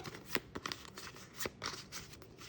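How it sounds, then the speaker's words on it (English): A deck of paper game cards for a Hercules tabletop game is shuffled by hand, with quiet, close papery riffles and slaps in short irregular bursts. "The rest of the mood cards we will shuffle up"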